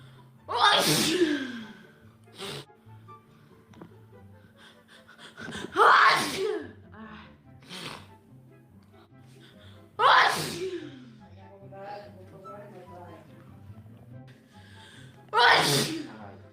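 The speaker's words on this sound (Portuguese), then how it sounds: "Mas pare de espirrar em mim." Four sharp, forceful sneezes spaced a few seconds apart during a livestream, each a loud burst with a quick intake of breath before it, separated by quieter stretches with faint background sound.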